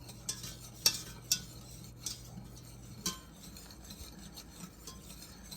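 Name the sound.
stirring boiling caramel glaze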